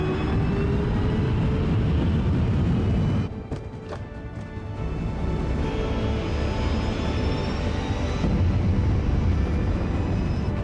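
Darkstar jet aircraft from Top Gun Maverick taking off, a loud continuous roaring rumble that briefly dips then swells back into a sustained powerful blast, with no talk.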